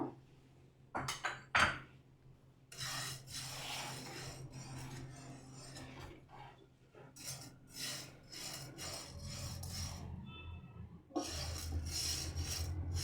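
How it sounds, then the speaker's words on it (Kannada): Urad dal being roasted in a pan on medium flame for sambar powder, with dry scraping and rattling as a spatula stirs the lentils, in uneven bursts and pauses, no talking. "ಹಾಗೆ ಉದ್ದಿನ ಬೇಳೆಯನ್ನು ಹುರ್ಕೋಬೇಕು"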